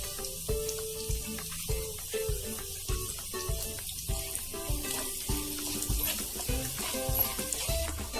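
Dabeli masala is roasted and stirred in a pan. A soft sizzle runs throughout, with the scrape of stirring repeating at a steady pace and a tonal background underneath.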